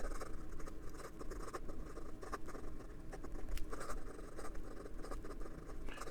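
Benu Tattoo fountain pen scribbling quickly across paper, a fast, continuous, close-up scratchy patter of nib strokes with no voices.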